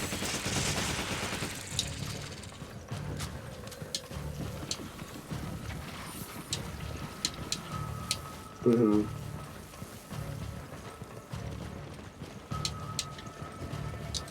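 Gunfire in the video game Resident Evil 5 as a player shoots an enemy, scattered sharp shots and bursts amid game noise and a continuous low rumble, with a person talking over it.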